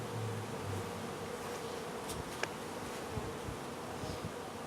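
Honeybees swarm and buzz in the air during a hive installation, a dense continuous drone that fills the outdoor scene, with a few faint clicks and taps mixed in.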